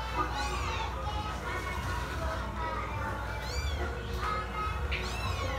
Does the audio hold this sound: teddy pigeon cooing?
no